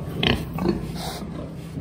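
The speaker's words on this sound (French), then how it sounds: "Ce que vous avez devant vous, vous avez des cochettes qui sont des jeunes truies" Young sows (gilts) in a pig farm give a few short, close grunts and snorts over a quiet barn background.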